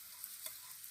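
Aloo paratha frying in a pan gives a steady hiss of oil sizzling, with a couple of brief bright crackles and spits, close and continuous over a short moment, with no talking.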